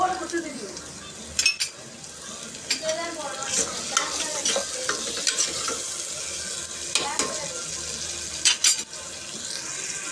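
Tomato masala with ginger-garlic paste and spices sautéing in a pan for squid gravy, with a continuous close sizzle and frequent stirring scrapes and clinks, no talking.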